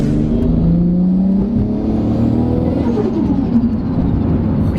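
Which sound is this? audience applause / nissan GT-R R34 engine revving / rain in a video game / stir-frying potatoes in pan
nissan GT-R R34 engine revving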